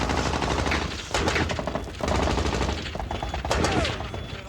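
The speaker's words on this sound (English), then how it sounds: "The Afghans opened fire on the Taliban positions." Sustained automatic gunfire from Afghan National Army troops firing on Taliban positions during a frontline engagement in Afghanistan, loud, dense bursts continuing throughout with brief lulls between volleys.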